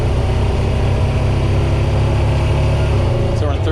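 A Honda Pioneer 700 side-by-side engine pulls steadily under acceleration, a loud continuous droning rumble with wind noise, the pitch easing slightly near the end as it shifts gears.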